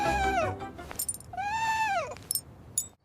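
A cat hiding under a table in a messy room lets out two clear, drawn-out meows close by, followed by a few light clinks and rustles; no one speaks.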